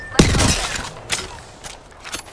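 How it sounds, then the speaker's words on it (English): A shield cracking in the Apex Legends video game: a loud, sharp shattering burst near the start with a glassy ringing tail, followed by a few fainter cracking hits. "I cracked an enemy shield"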